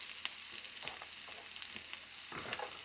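Onions frying in a pan for a radish curry, a soft, steady sizzle with light stirring scrapes and occasional small crackles, fairly quiet and free of speech.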